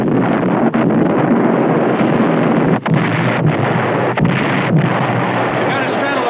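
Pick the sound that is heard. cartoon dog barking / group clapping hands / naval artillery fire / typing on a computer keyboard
naval artillery fire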